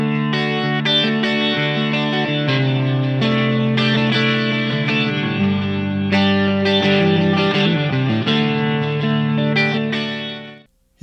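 Acoustic guitar playing the intro riff of a song, a steady run of sustained chords and picked notes, close and loud for about ten seconds before cutting off.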